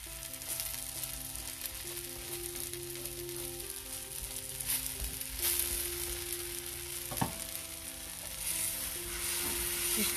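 Butter sizzling on a hot pudla sandwich, a Mumbai street-style chickpea-flour sandwich, with a continuous bright crackling fry and a few soft scrapes and one clank over a low steady hum.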